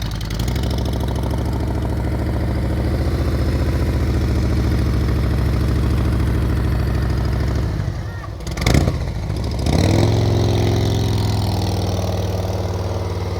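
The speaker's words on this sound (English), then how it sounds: "Hear her throttle" A motorcycle engine runs steadily at low throttle during slow-speed riding practice, a close, continuous rumble that dips briefly and then picks up again with a slightly stronger throttle near the end.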